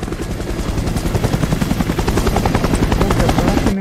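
Helicopter in the co-op video game Operation Raccoon City, a loud, steady rhythmic rotor thump with dense mechanical roar filling the whole stretch, close and continuous.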